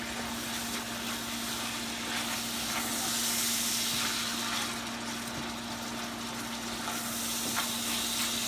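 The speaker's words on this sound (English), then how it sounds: "we're going to stir the egg noodles that are in the background to ensure that they cook each other properly al dente" Egg noodles boil in a pot on the stove and get stirred, giving a steady hiss and bubbling with a faint hum and a few soft clinks of the stirring utensil.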